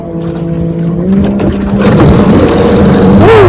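A 1968 Johnson 9.5 HP outboard motor running loud and close, its steady droning hum wavering as it is throttled and then rising in a brief rev near the end.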